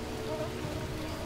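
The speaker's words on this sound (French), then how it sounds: "Par contre la pluie, j'avais oublié, mais ça va nous remplir nos bols" Steady rain falling in the jungle of the survival game Green Hell, a soft continuous hiss of drops pattering on surfaces, close and even throughout, with no voices.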